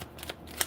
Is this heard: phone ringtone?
no